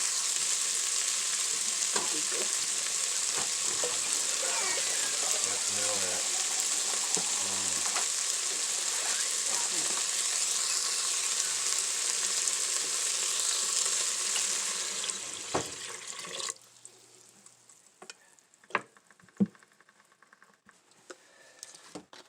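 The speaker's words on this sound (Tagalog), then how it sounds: "Then, ako na siyang butangan og tubig." Water pours into chicken frying in an Instant Pot, a loud steady sizzle and bubbling that tapers off and quiets midway, followed by scattered light clinks and pops.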